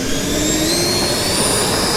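An FMS Super Scorpion 90mm RC jet taking off, its electric ducted fan letting out a loud, steady, high-pitched whine with a broad rushing roar, close by and continuous with no talking.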